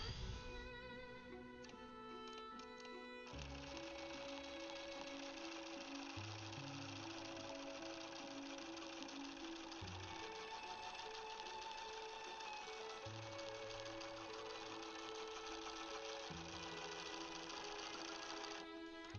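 A Bernina 790 Pro sewing machine runs while quilting, a continuous fast mechanical whir and needle chatter that holds steady for the whole stretch, with slight shifts in pace and no voices.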